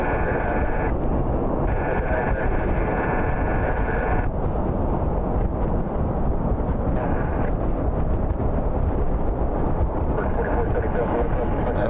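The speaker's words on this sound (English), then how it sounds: "This is one of the medical flights heading out." A medical flight aircraft departing Cleveland Hopkins airport makes a loud, continuous roar through the whole stretch, with a voice talking over the engine noise.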